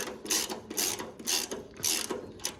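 A ratchet wrench loosens a bolt on a combine bean head auger, close and loud, with five regular ratcheting strokes in a steady back-and-forth rhythm and no speech.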